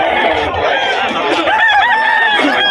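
A young bullstag rooster clucks and calls up close, loud and continuous, with people talking in the background.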